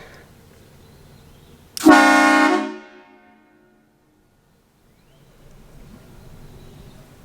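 Train horns mounted on a pickup truck give one loud, sharp blast lasting about a second before cutting off abruptly, followed by quiet outdoor ambience.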